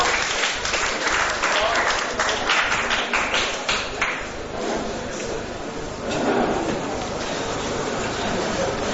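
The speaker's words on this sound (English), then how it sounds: "I would like a round of applause for LSD and this Professor Leary," Audience applause at a 1982 Göttingen event, a full room of clapping that swells and thins in uneven waves, with a few sharper knocks and some voices mixed into the noise.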